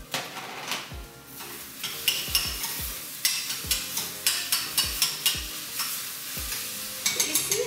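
Chilies and garlic hit hot oil in a tarka for rajma, kidney bean curry, with a steady loud sizzle, while a spoon stirs and knocks against the pan in repeated clinks and scrapes.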